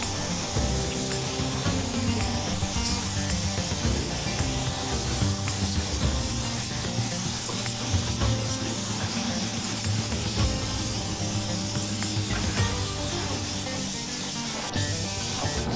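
Steady close spray-gun hiss while painting a car body's first coat, underside and inside roof included, continuous and fairly loud with no talk.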